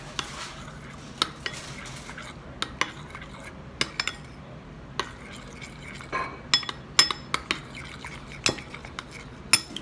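A spoon stirs salad dressing of mayonnaise and tomato ketchup in a bowl, giving scattered sharp clinks and taps against the bowl over a quiet, faintly scraping background, with no talk.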